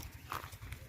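Horse hooves clip-clop in a steady, fairly quiet rhythm, with a few soft knocks over low background rumble during a short Gujarati comedy skit scene.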